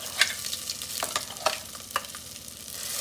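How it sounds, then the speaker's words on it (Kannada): Ground masala frying in a pan for majjige huli gives a steady sizzle under several sharp scraping stirs of a spoon, with no talking. "ಅದನ್ನು ಸ್ವಲ್ಪ ಫ್ರೈ ಮಾಡ್ಕೊಳ್ಳೋಣ."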